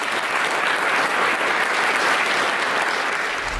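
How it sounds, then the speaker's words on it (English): A studio audience breaks into a steady, full round of applause on a stage show, dense clapping sustained evenly throughout without a break. "Round of applause, number 19."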